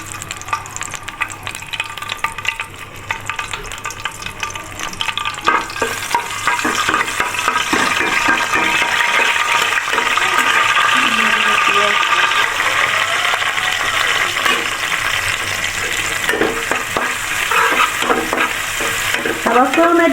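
Bay leaves, cardamom and cloves fry in hot oil and are stirred in a pan, a loud, close, continuous sizzle with scraping and stirring strokes that swells after the first few seconds.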